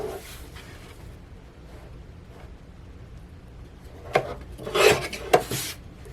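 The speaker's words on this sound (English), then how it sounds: "So we'll start off at the 5-inch mark. Trim it down." Paper sheets trimmed for a DIY notebook, with soft rubbing and scraping at first, then a few louder, rasping slicing strokes close by toward the end.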